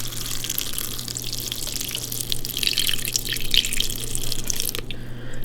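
Cold water runs steadily from a faucet or is poured into a mixer bowl, a continuous close splashing flow with a low electrical hum underneath, ending abruptly near the close.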